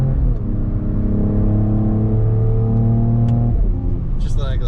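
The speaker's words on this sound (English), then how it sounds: "you get this nice little crack out the exhaust" A 2021 Mercedes E53 AMG Cabriolet accelerates hard through the Los Angeles hills with a loud, close engine note that climbs steadily, then breaks off in a gear shift as the pitch drops.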